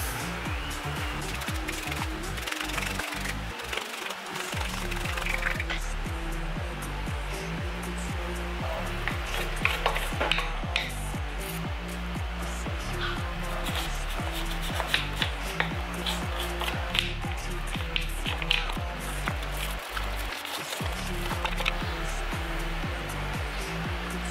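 A motorcycle stator and magneto for a Yamaha Mio are brushed clean, with steady close bristle scrubbing and rasping strokes repeating rhythmically over a constant background hum, continuing for over twenty seconds.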